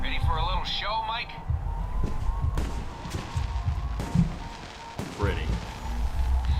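Fireworks bursting in the video game Alpha Protocol, a few sharp, scattered bangs and crackles mixed into a busy game soundscape with voices talking.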